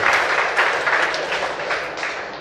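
Audience applause at a college event in Raipur: dense, continuous clapping from a sizeable crowd, fairly loud and even from start to finish, with no speech over it.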